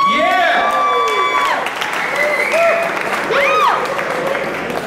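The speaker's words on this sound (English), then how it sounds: "A big round of applause to every single one of you here tonight." An audience at a live pitch-competition event applauds and cheers loudly, with dense clapping and whoops while voices ring out over the crowd.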